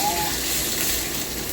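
Food sizzles and fries in a hot pan with a steady, bright crackle, close and continuous for the whole moment.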